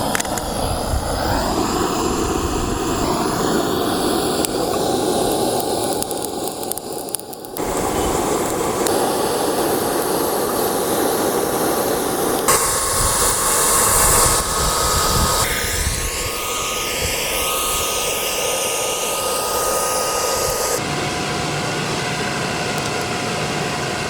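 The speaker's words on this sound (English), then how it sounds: "The forge has warmed up to temperature." A forge heating up for knife heat treating gives off a constant, loud, breathy roar like a jet of burning gas, steady throughout with a few abrupt shifts in tone and no voices.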